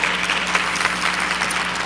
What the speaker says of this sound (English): So please also join me in a round of applause for Elsie.